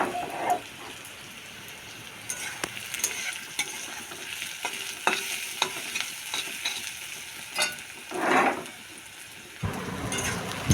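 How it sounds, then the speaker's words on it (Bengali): Onion and garlic fry in a hot pan for a fish chochchori, giving a steady close sizzle with occasional stirring scrapes and clicks and no voices. "আমার পেঁয়াজ আর রসুনটা প্রায় একেবারে অনেকটাই ভাজা হয়ে গেছে"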